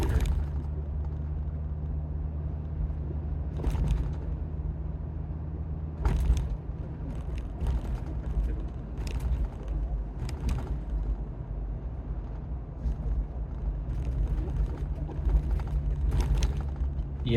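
Jeep-type vehicle with a Teraflex Falcon Nexus 2.2 steering stabilizer in its firm setting rolls over bumps, giving a steady low rumble from the road and drivetrain broken by irregular thumps and rattles as the suspension hits each bump.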